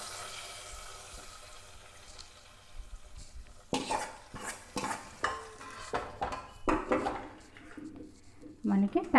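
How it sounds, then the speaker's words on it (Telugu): A fried onion tempering is stirred into tomato and fenugreek rasam, with a quiet sizzle at first, then a series of sharp scraping and clinking stirs against the pot, ending in louder clattering. "ఈ పోపు అంతా మన దీనిలోకి వేసేసుకుందాం."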